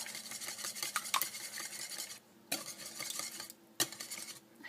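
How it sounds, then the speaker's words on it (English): Wet ingredients for pumpkin cranberry muffins are whisked in a bowl, a close, continuous scraping and clinking of utensil against dish with a few louder taps and brief pauses. "we've got all the wet ingredients in there, and then we're going to just whisk it up"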